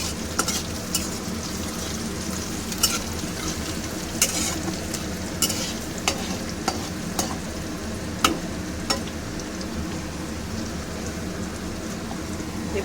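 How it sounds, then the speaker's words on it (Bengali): Chopped green chillies being stirred into a lote fish curry in a pan: a steady close sizzle with frequent sharp spatula scrapes and clicks against the pan, no talking. "এবার আমি এর মধ্যে দিয়ে দেবো লঙ্কা কুচো করে রেখেছি 2-3টে, সেটা। সমস্তটাই একটু নেড়ে নেব।"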